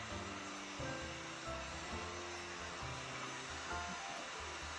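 A heat gun warms up before tinting the rear glass of a 2025 Honda Civic Type R, giving a quiet, steady blowing hiss and whir near the mic with no speech.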